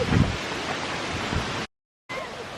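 A waterfall in the Poconos hills rushes in a steady broadband wash, moderately loud and unbroken apart from a short gap of silence, with no speech over it.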